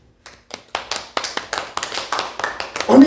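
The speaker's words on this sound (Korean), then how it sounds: "박수 좀 쳐보세요." Congregation in a church clapping hands in a steady beat, about a dozen sharp claps that grow louder and more regular, close and unaccompanied by talk.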